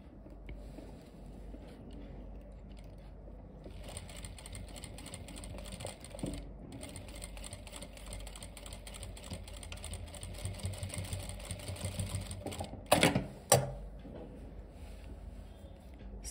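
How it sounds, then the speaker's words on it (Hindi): An electric sewing machine stitches belt loops onto formal pants from the inside, running as a fairly quiet, steady mechanical whir throughout with a few louder clunks near the end. "अंदर वाली साइड से सिलाई लगा देंगे।"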